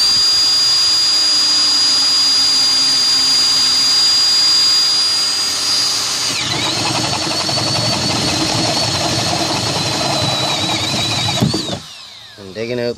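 A power drill with a 1-inch bit boring holes in a kayak, a loud continuous whine that holds steady, changes pitch midway as it bites, then stops near the end.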